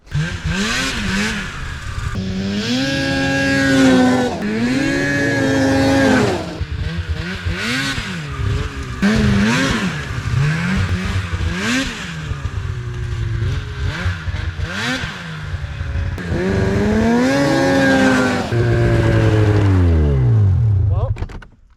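A snowmobile engine revs and drops repeatedly as the rider throttles hard through turns in deep backcountry snow, loud and close, with someone talking over the surging motor.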